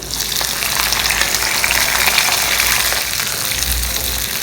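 Chopped tomatoes, green chillies and curry leaves fry together in a pan, producing a loud, dense, hissing sizzle with a wet bubbling edge that continues unbroken, with no talking.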